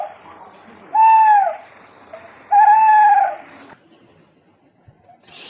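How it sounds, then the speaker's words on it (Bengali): An owl gives two clear, loud hoots about a second and a half apart against a quiet background. "পেঁচাকে ইংরেজিতে বলে আউল"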